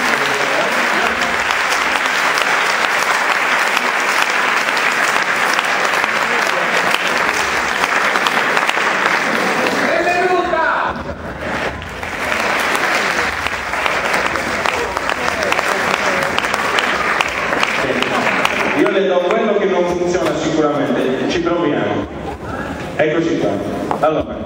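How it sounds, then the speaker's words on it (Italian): Loud, sustained applause from an audience fills a ceremony hall, steady clapping throughout with a brief dip in the middle before surging again. "Un applauso."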